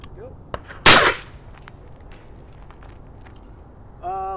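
A single sharp gunshot from a firearm fitted with an over-barrel suppressor, recorded at the shooter's ear, a loud brief crack followed by quiet handling sounds and a short beep.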